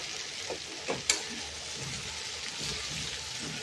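Amaranth greens (maath bhaji) are stirred with turmeric in a pot, giving a constant sizzling hiss, soft wet stirring swishes and one sharp clink of a spoon against the metal.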